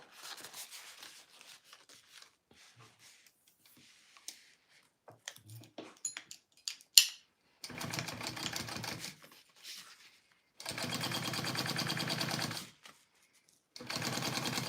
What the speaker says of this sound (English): now I want to sew that at my full seam allowance